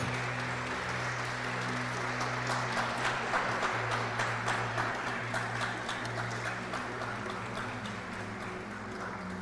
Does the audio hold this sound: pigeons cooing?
no